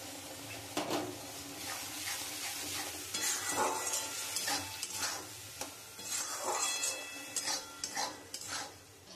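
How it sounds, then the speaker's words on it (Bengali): Ivy gourd leaf paste fries in oil with salt in a pan, making a steady close sizzle broken by repeated scraping and stirring strokes of a spatula against the pan, with no talking. "আমি ওই তেলের মধ্যেই আমি যে পাতাটা পেস্ট করেছি আমি ওইটা দিয়ে দেবো"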